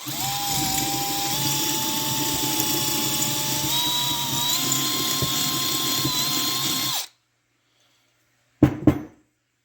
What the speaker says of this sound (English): I went up one more size on the drill bit to get the spring to actually fit